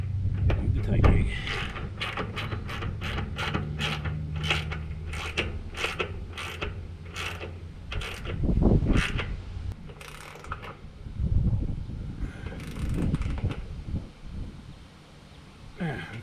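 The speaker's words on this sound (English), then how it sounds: "Do the tightening." Ratchet mechanism tightening a bolt while a new deck goes onto a gooseneck trailer, with a rapid series of sharp clicking bursts over low engine or machine rumble, and speech heard in places.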